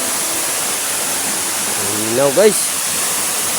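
Steady broadband rush of a waterfall with clear water, heard close and constant throughout, with a voice speaking briefly over it near the end.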